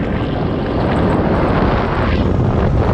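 An electric Vsett 11+ Super 72 scooter accelerates hard from 0 to 30 mph, heard as a loud, steady rush of wind buffeting the microphone over a low roar throughout.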